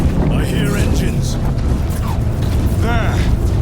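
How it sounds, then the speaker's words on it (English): Spacecraft engines roar in a Space Marine 2 battle, a dense, loud low rumble and booming drone filling the whole moment beneath game voices and mechanical clatter. "I hear engines."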